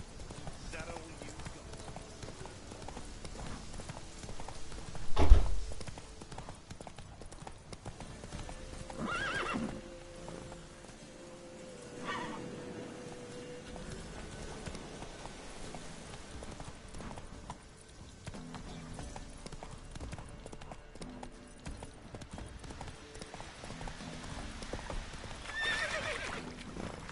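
Roach the horse from The Witcher 3 gallops with steady clip-clop hooves and lets out whinnies, with a sharp impact near the start, heard under ongoing talk and game sounds.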